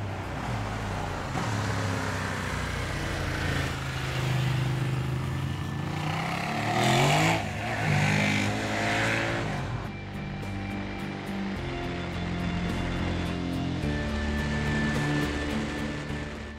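A Ducati Diavel performance cruiser motorcycle riding past, with a loud sustained engine roar that swells and shifts pitch midway, then settles into a steadier drone with wind rush.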